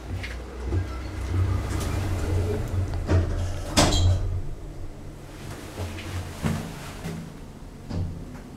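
Lift doors at Hagen main station sliding shut, with a steady rumble of station and lift machinery, a few sharp clunks and a louder thud near the middle, heard fairly close with no speech.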